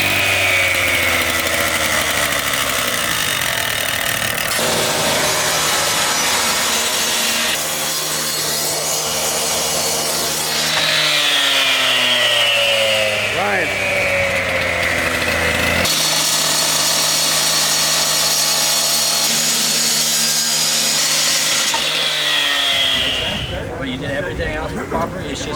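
A power saw, carried as a forcible entry tool, runs loud and steady on a vacant property, its engine pitch rising and falling for about twenty seconds before winding down.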